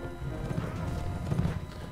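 A war horse gallops in the medieval battle game Mount and Blade: Warband, rapid hoofbeats thudding steadily and close amid busy battlefield noise.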